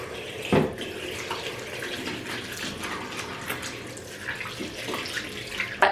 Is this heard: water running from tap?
yes